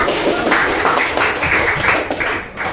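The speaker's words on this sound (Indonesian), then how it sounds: "Kita kasih aplaus untuk teman kita" Classroom applause for a classmate, a burst of hand clapping from a group of students that fills the whole stretch at steady strength, with no talking over it.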